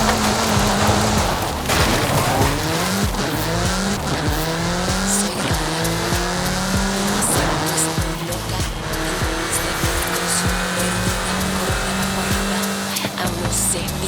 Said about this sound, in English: Get some speed, then turn into the countryside. Really see what this car can do.